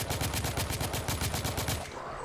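Rapid automatic gunfire in the video game The Order 1886, a dense, loud, evenly spaced burst of shots that stops abruptly near the end.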